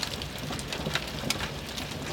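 Marble-sized hail falls in a thunderstorm, a dense, continuous patter of hard impacts on surfaces nearby with no pauses and no voices.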